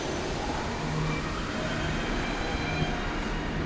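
A tour car on a film-location tour is pulled along, giving a steady, broad rumbling roar with a faint low hum, continuous and fairly loud throughout, and no talking.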